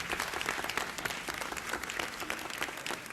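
Dense, steady applause from an audience at a school board meeting, honoring students as their names are read. Many hands clap at once and fill the whole stretch without pause.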